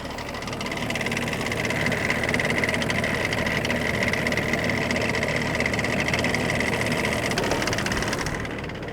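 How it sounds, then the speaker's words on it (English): Air suspension compressor on an abandoned Range Rover P38 runs steadily and loudly at close range, a constant mechanical hum and whine that holds for several seconds before a slight drop near the end. "and force the compressor to run"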